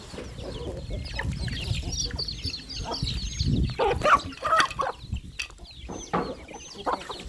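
Chickens on a farm clucking and calling in a busy, continuous jumble, with scattered sharper squawks and some low rustling and movement nearby, fairly faint overall.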